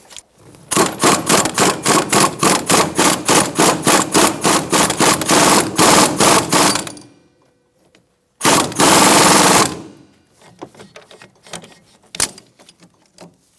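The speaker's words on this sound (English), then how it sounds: "we're going to tighten this down, snug it up" Rapid, loud, evenly spaced clicking comes from tightening the strut assembly nut on a 2005-2010 Chrysler 300, likely a ratcheting tool. A long run of clicks is followed by a pause and then a shorter second burst, with a few scattered clacks afterward.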